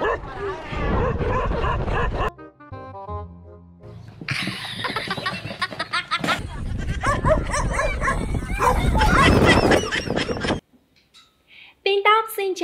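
Dogs being teased, yipping, barking and whimpering in short bursts amid excited human voices and laughter, with a brief quiet gap near the end before the noise resumes.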